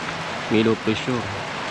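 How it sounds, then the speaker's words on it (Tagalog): Steady heavy rain from a low-pressure system hisses in the background while a voice speaks briefly over it in a few short bursts. "bumus na naman itong malakas na ulan dahilan sa may low pressure"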